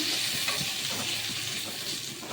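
Boiled vegetables stirred and frying in a pan with cloves and cinnamon for homemade fried rice, a steady close sizzle with soft scraping stir strokes throughout.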